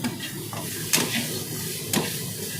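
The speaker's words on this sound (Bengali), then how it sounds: "ছোলা ভাজা হয়ে গেছে" Chickpeas fry in a pan with a constant close sizzle, broken by two sharp scraping stirs about a second apart.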